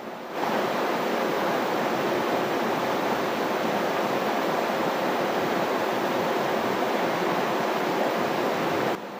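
River water rushes past in a steady, dense broadband roar, close and constant from start to finish with no voices.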